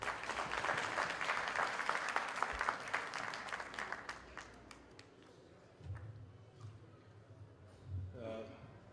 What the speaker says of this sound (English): Please applaud Mr. Tanveer Alam Mohammadi.